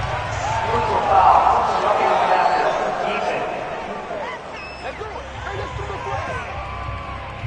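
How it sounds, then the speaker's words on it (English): Stadium crowd at an NFL game reacting loudly to a roughing the passer penalty, a sustained roar of disapproval and booing that swells early and then eases slightly, with scattered shouts through it. "this crowd does not like that call"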